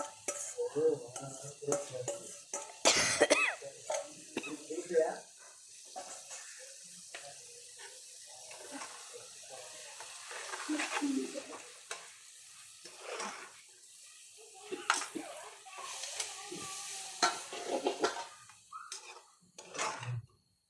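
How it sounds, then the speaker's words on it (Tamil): Soy-sauce marinated prawns sizzle in a pan while being stirred, with repeated scraping and clattering of a utensil against the pan and bursts of frying, close and fairly loud, no talking. "இப்போ இறாலை போட போகிறோம். அதில் இறாலை போட்டு நல்லா மிக்ஸ் பண்ணுறோம்."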